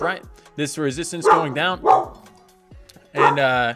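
Several dogs bark and yip in short bursts through a home setting, fairly close and loud, mixed in with someone talking.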